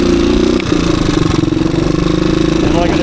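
A low-hour 1985 Suzuki DR250 dirt bike rides through the woods at a steady cruising pace, its single-cylinder engine droning loudly and continuously with a rough, pulsing rumble.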